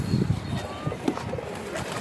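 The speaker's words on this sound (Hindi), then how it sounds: "अभी मैं आपको दिखा देता हूँ कबूतर का बच्चा" A pigeon chick (squab) gives soft, low cooing calls close by, a few brief murmuring notes over faint background noise.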